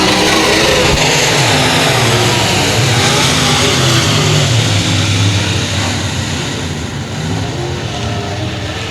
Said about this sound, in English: William Gould bumping the rev limiter on that thing, having to get out of the throttle back into it before he's down to the end of the straightaway.